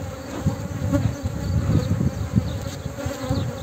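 Honey bees swarm around an opened hive box during a queen excluder check, their dense, steady buzz close and continuous, with individual bees droning past.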